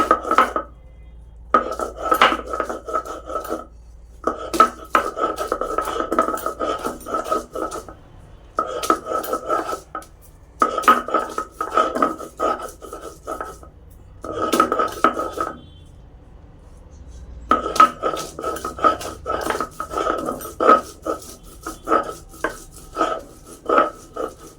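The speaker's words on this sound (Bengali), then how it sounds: "আমি সব পাটায় ফেলাই মশলা করি।" Spices ground on a stone slab (pata) by hand, heard as repeated bursts of gritty scraping and knocking strokes in rhythmic runs, separated by short pauses, close and fairly clear.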